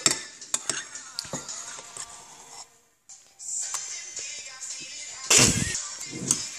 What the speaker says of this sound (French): Nous finissons et après nous allons touiller.